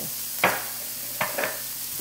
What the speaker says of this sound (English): so the onion is in here, so I'm gonna go ahead and add the garlic, and this is 3 cloves of garlic chopped up